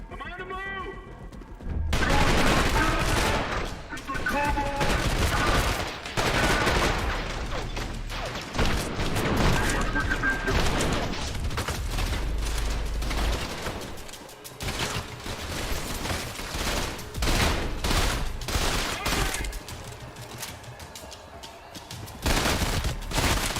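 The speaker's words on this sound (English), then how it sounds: "I just wanted to shotgun some guys." Shotgun blasts and heavy combat noise in the video game Trepang 2, repeated loud shots with mechanical clatter and crashes, continuous throughout with occasional talk underneath.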